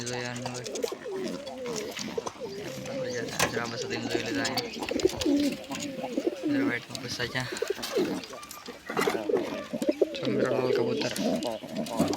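Pigeons coo repeatedly in low, rolling phrases, close by, with a person talking over parts of it.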